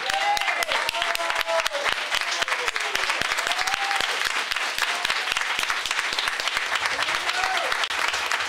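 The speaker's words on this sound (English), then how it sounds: "give these people a round of applause." Sustained audience applause for a congress organizing team at a party congress, dense clapping with some voices speaking over it.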